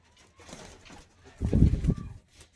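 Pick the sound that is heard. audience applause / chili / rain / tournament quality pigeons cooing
tournament quality pigeons cooing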